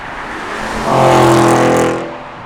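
A 2013 Porsche Cayenne GTS on the highway, its engine and road noise swelling to a loud pass-by peak and then easing off, with no talk.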